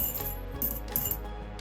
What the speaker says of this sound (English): You can put your spare change in it.